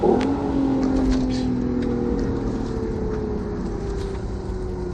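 A BMW i8 hybrid sports car engine rises in pitch as it accelerates hard with electric boost, a steady loud drone climbing and holding, with a faint voice briefly underneath.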